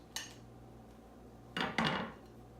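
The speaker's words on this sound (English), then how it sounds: "I use a pie spatula to get this out" A metal pie spatula scrapes and clinks against a baking dish while scooping out enchilada casserole, one sharp tap early, then a longer scraping scoop followed by a louder clatter, close and distinct with no talk.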